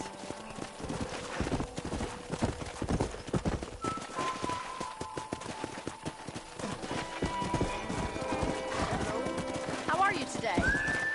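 Horses in the Red Dead Redemption video game, hooves clip-clopping in a steady rhythm with a neigh rising near the end, busy and close, mixed with talk and game music.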